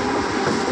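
A local commuter train passes close by with a loud, steady rumble and rattle of rail cars throughout the brief moment, with no voices.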